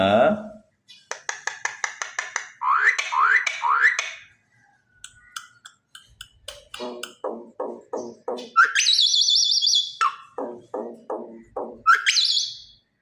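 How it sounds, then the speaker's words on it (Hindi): A pet myna bird calls repeatedly with bright chirps, whistles and chattery trills, fairly close and loud, mixed with rapid clicking notes, while someone talks softly to it in between. "मेरी प्यारी मैना।"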